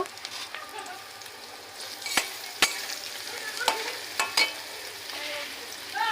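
Garlic paste sizzles in hot oil with nigella seeds while cooking taro leaves with lentils, a soft continuous frying hiss broken by several sharp clinks and scrapes of a spoon stirring in the pan.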